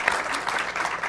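A live audience claps at a Black History Month celebration, a short burst of steady applause of moderate loudness with no talking over it.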